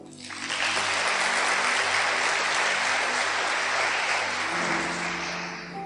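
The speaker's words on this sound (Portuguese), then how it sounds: "dê um aplauso ao Senhor" Enthusiastic applause from a large church congregation swells quickly and holds steady for several seconds before beginning to fade.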